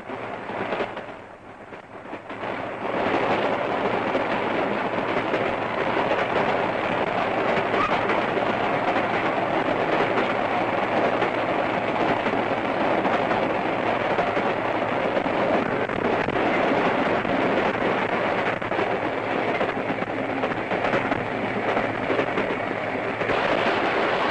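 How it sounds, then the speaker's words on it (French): Steam locomotive of the French SNCF railway, circa 1945, running on rails toward a depot after a long run, a steady loud continuous rumble and rolling roar with no talk. "La locomotive, qui vient de parcourir 150 km, regagne un dépôt où elle va demeurer pendant la coupure de nuit"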